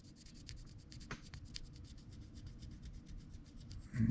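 A pencil eraser rubs against the armature or contacts of an Aurora AFX HO slot car motor, producing a soft, close scrubbing rasp with quick repeated strokes and a brief louder scrape near the end.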